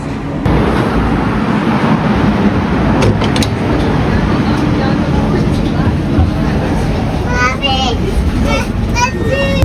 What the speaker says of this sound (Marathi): शिवांश, शिवांश कशी आहे ही ट्रेन? आवडली का?